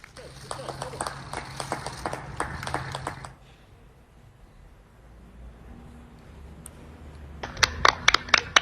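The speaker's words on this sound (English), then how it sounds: "Britons who are in lockdown took a moment to publicly applaud the efforts of their National Health Service" Crowds in lockdown Britain clap for NHS carers, a burst of scattered, fairly distant applause that stops, gives way to quiet, then resumes with a few sharper nearby claps.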